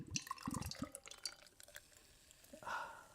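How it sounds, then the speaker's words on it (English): Liquid poured into a big glass, a few splashy drips and clinks early on, then a brief gush of pouring near the end, fairly quiet and close with no talking. "That was a satisfying pour."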